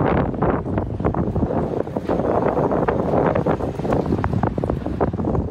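Strong wind gusts batter a city street by a shopping centre, roaring hard against the microphone in a loud, continuous buffeting with surging peaks and no speech.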